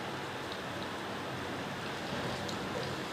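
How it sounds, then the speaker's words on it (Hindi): Chopped onions sizzling in hot oil over a raised flame while cooking roghni gosht, a dense, steady hiss and crackle that carries on evenly without talk. "अब हम इसमें ये जो प्याज कटी हुई है ये ऐड करेंगे।"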